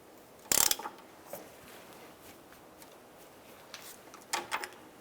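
Ratchet snugging the caliper bracket bolts during a rear brake job on a 2004-2009 Dodge Durango: a loud burst of rapid clicks, a short pause, then a second shorter burst near the end, with quiet workshop background in between.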